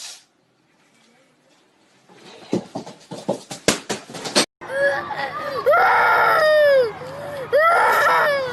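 A small child cries and wails in rising, wavering bursts after a quiet start and some knocking sounds, the sobbing loud and close.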